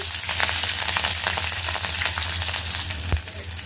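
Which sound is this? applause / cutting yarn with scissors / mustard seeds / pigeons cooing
mustard seeds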